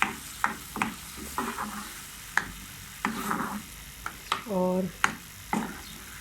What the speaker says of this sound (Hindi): इसको अच्छी तरीके से भूनेंगे